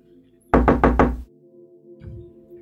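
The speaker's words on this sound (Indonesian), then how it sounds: "tiba-tiba ada yang mengetuk pintu rumahnya" Someone raps on a house door in a quick burst of about four loud, close knocks, then a softer thud follows, over a low steady hum as from a television playing.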